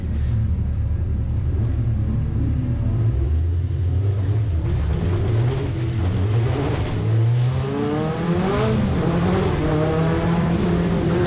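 A hot hatch race car's engine accelerates hard at a race start at Snetterton, pitch climbing through short-shifted gears with loud, continuous drone and rising harmonics, nearby from inside the car, no talking.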